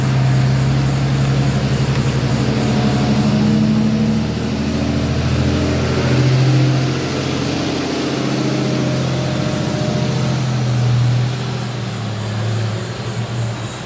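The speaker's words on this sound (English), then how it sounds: "Hang on, we're gonna let some vehicles pass." Vehicles drive past on a Florida road near construction, a loud continuous low engine and tire rumble swelling and fading as several pass close by one after another.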